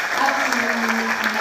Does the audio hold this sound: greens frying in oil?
no